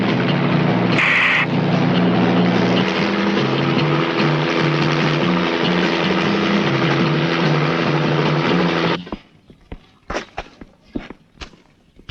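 A police helicopter flies loud and close with a steady rotor and engine roar for about nine seconds, then cuts out, leaving scattered footsteps and knocks.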